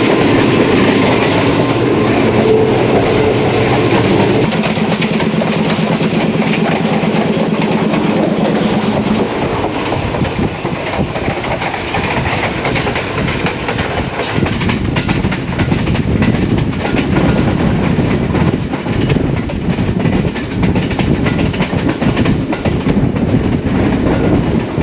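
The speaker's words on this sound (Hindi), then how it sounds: "ट्रेन इस वक्त पहुंच चुकी है जिया बग्गा रेलवे स्टेशन से थ्रू पास हो रही" Bulleh Shah passenger train running through a railway station near Lahore, a loud continuous roar of carriages with rhythmic clickety-clack of wheels over rail joints throughout.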